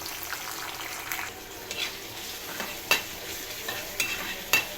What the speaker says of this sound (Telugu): తర్వాత జీలకర్ర ఆవాలు వేసేసిన తర్వాత పచ్చిమిర్చి, ఉల్లిపాయ ముక్కలు